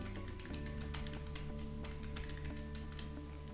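Fingers type on a computer keyboard to fill in form fields, a quiet, steady patter of close key clicks with small irregular pauses.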